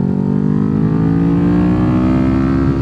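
Kawasaki Ninja 400 motorcycle fitted with a stainless Leo Vince exhaust, held at a steady, loud rev with a deep, continuous drone throughout, no talking.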